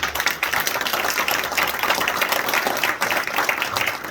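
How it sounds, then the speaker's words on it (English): Award winners at a Caltrans Adopt A Highway awards ceremony receive steady, dense applause from the crowd, loud and continuous for several seconds with no break. "Can we give them a round of applause?"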